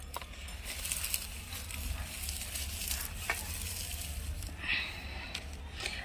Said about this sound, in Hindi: और हम इस तरह से मिट्टी को और अच्छी तरह से मिक्स करेंगे।